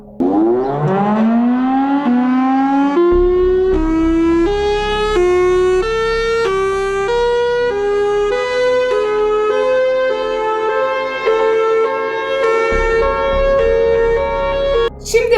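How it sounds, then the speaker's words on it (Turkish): A long, rising mechanical wail climbs steadily in pitch and holds a loud, eerie siren tone, like a civil defense tornado siren, sustained without any voices. "Sirenhead'in sesi en çok tornado siren sesine benziyor diyebiliriz"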